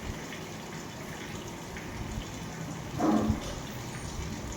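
Water runs into a washing machine with a faint, steady rush, then briefly swells into a louder gush before easing back.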